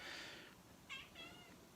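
A cat meows indoors, two short, faint meows about half a second apart over a quiet room hum.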